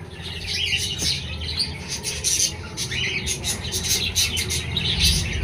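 A group of caged talking parakeets kept for sale screeches and chirps constantly in dense overlapping squawks, loud and close, with a little faint background chatter.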